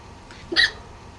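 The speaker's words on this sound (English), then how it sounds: "I have the hiccups" A single sharp hiccup sounds close and clear at mid-clip, rising out of a quiet indoor background with faint breathing just before it.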